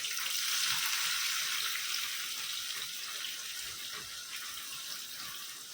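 Onions hit hot oil in a pan for a home-cooked khichdi meal, giving a steady, loud, bright sizzle that eases slightly over the seconds, with no talking.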